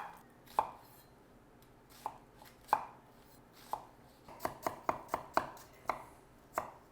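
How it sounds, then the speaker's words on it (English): Onions being chopped with a knife on a board, sharp crisp knocks, first spaced apart, then a quicker run of cuts, close and clear with no talk. "So we'll chop the onions."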